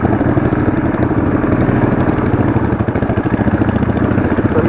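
A Royal Enfield Classic 500 motorcycle engine labors steadily and loudly on a very steep off-road climb, its low throbbing drone holding under strain with a brief dip near the end.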